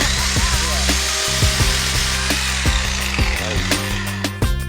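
A power tool cuts through rusty bolts on an antique plow, giving a loud, steady grinding whine broken by short jolts as the blade bites the metal.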